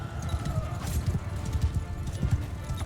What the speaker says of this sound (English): Low tier horse in the snow.